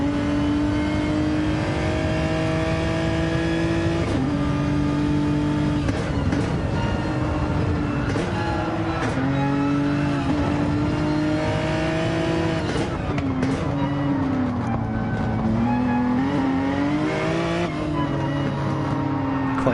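Onboard with a race car in a PS4 racing game, the engine drones loudly and steadily, its pitch rising through the gears and dipping at corners, repeated shifts and revs filling the whole stretch.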